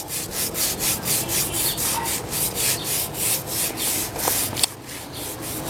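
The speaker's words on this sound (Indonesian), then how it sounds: "harus segera kita gosok" Rhythmic back-and-forth scrubbing of a ceramic tile floor to remove cement residue, steady strokes repeating about twice a second, close and fairly loud with no talking.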